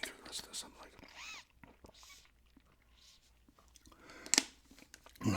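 Gum is chewed close to the microphone in short wet smacks and crunchy bursts, mixed with soft whispered talk.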